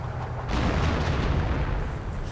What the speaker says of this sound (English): And artillery getting called in.